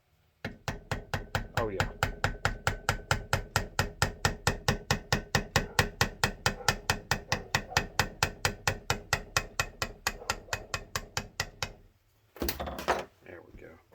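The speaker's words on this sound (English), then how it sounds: "can I just tap on this maybe with a screwdriver?" A screwdriver taps on a Mopar points distributor, a long run of sharp, evenly spaced metallic knocks close by, ending with a brief clatter and a short spoken remark.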